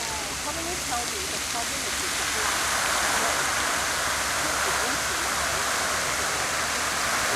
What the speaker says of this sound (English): The water feature, now it's going to come on in a minute.